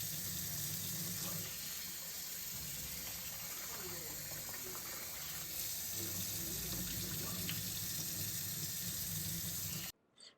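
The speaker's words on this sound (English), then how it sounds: "When washing the rice, you typically want to keep on draining it until the water is clear" Water runs steadily from a tap over rice being washed in the inner pot of a Cuckoo CR-0632F rice cooker, a continuous close hiss and splash that cuts off abruptly at the end.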